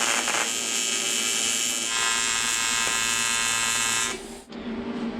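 Tack welding steel tube on a welding table for a homemade intake manifold, a loud, continuous electric buzz lasting about four seconds before cutting off sharply, followed by quieter background noise.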